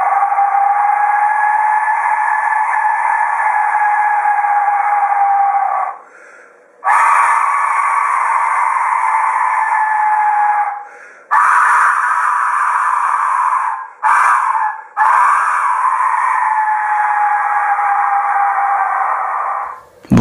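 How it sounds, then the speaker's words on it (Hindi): A death whistle blows loud, piercing scream-like wails in four long sustained blasts separated by brief pauses, sounding close and harsh like a human shriek. "ये दुनिया की सबसे स्केरिएस्ट विशिल है, क्योंकि इससे काफी डरावनी आवाज निकलता है।"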